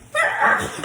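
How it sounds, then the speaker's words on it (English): A single short, muffled sneeze into a sleeve bursts out nearby, lasting under a second. "Thank you for sneezing the right way in your sleeve."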